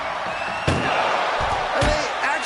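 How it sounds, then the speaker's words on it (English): An ambulance door slams shut in the wrestling game WWE 2K24, giving a few sharp thuds over a steady roaring arena crowd, with commentary running underneath. "Trying to at least slam one door shut."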